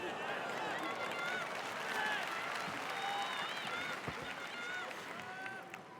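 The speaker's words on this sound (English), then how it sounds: "the crowd appreciates the efforts by both fighters" Arena crowd at a Dream lightweight grand prix MMA bout in 2008, a steady roar of applause and cheering under continuous commentator talk.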